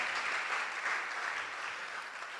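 Applause from the audience at a Catholic medical professionals' national convention, a continuous moderate wash of clapping hands in a large hall, fairly even and slightly fading toward the end.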